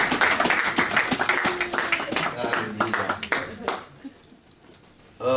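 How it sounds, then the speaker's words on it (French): A church congregation applauds the ladies, dense clapping filling the first few seconds before thinning out and fading, with voices beneath and a speaker starting to talk at the end. "Acclamons pour les dames."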